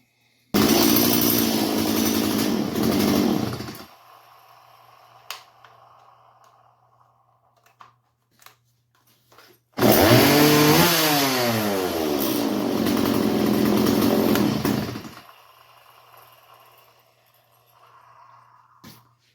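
A Stihl MS170 chainsaw, running after a fuel line replacement, roars loudly at close range in two long bursts, revving up and down in the second run, with a low idle and a few clicks in the quiet gap between.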